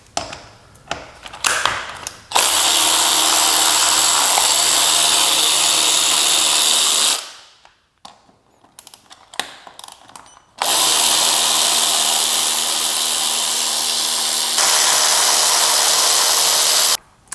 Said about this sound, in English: I'm going to remove this lower plastic cowl. You need a T30 to remove the screws on both sides.